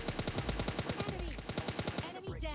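Rapid automatic gunfire in the mobile shooter PUBG Mobile Lite, a fast, even burst of roughly two dozen shots over a couple of seconds, loud and close, ending in a brief rattle, with no talking.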